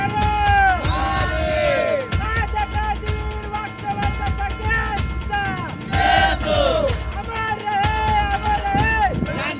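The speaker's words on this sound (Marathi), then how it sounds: "तरुणांनी घोषणांचा जल्लोष केला तो क्षण जय शिवराय" Young villagers chant the slogan 'Jai Shivray' at a commemoration procession carrying a revolutionary torch, a loud crowd of voices rising in repeated rhythmic shouts and cheers, close by.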